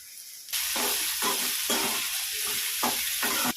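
Crushed ginger and garlic hit hot oil for a special fish curry and burst into a loud hissing sizzle. The sizzle then carries on in uneven surges as the pan is stirred.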